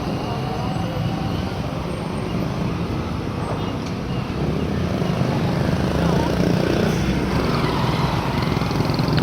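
A cargo truck drives through busy Kampala traffic, Uganda, a steady broadband road roar with engine rumble and surrounding vehicles, growing slightly louder midway as it passes close.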